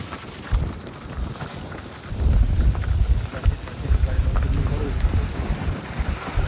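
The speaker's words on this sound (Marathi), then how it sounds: "पाऊस चालू आहे." Heavy monsoon rain falls during a trek near Daryaghat, a dense, rumbling wash with wind buffeting the microphone, swelling louder after the first couple of seconds.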